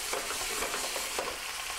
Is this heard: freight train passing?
no